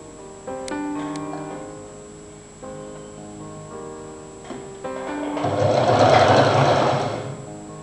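A sewing machine stitches a folded bias strip around the neck of a Chinese-collar jacket, running in short bursts and then a longer, louder continuous run, close by and without talk.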